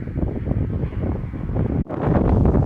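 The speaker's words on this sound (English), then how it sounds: "we're getting quite a wind now" Strong wind buffets the microphone outdoors with a steady, rough roar, a brief lull near the end, then gusts back in loud and close beside a boarded-up bugout wagon built as an ice fishing chalet.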